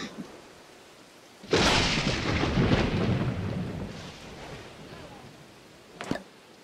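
In the video game Dawn of Man, a thunderstorm effect delivers a sudden loud thunderclap that rolls and fades over a few seconds above rain. A short sharp crack follows near the end.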